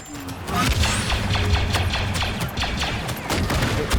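Steady blaster and gun fire from a Star Wars Battlefront II battle, dense rapid shots that keep going loud and close, with a low rumble of explosions underneath.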